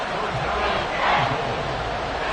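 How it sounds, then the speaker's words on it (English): Stadium crowd in the Madden football video game roaring continuously near a goal-line play, a loud, steady wash of cheering that swells briefly in the middle, with no commentary over it. "This crowd doing all they can."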